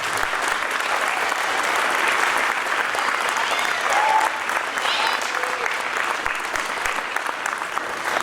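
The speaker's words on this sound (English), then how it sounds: "big round of applause for our 7th grade band" A middle school spring concert audience gives the 7th grade band a long, thick wash of applause that stays level and loud for about eight seconds.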